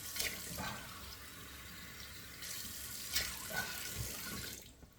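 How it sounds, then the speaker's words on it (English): Cold water runs steadily from a bathroom sink tap in a quiet shaving setting, a faint continuous splashing hiss with a few soft clatters and splashes before it stops. "Turning the cold water on. The sink."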